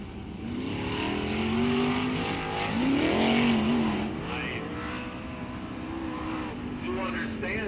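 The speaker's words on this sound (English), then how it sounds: "Looks like we've got 7 drivers to race fast laps here at the I96 Speedway" Sprint cars race laps on the dirt I96 Speedway, engines droning loud and steady with rising and falling revs as they circle past, under a track announcer's talk.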